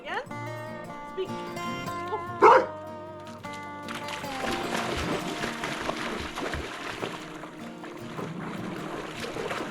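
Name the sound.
dog barking on command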